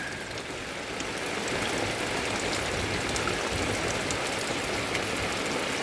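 An afternoon rain pours steadily, making a dense, even hiss that stays constant for several seconds with no voices.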